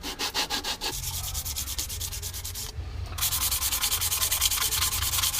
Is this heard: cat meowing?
no